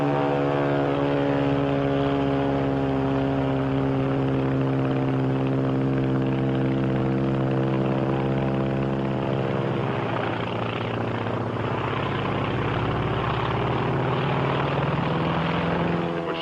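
A WWII Japanese Zero fighter's propeller engine drones continuously in flight, a steady rough hum whose pitch slowly sinks and shifts as the plane climbs, loud and unbroken with no talk.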